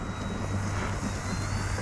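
A small FMS radio-controlled model airplane climbs into the air with a steady, close electric motor and propeller drone, humming evenly throughout a short stretch with no voices.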